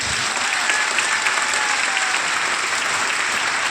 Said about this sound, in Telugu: మీ 600 మంది ఒకసారి క్లాప్స్ కొట్టండి.